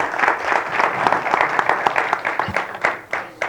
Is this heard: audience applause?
yes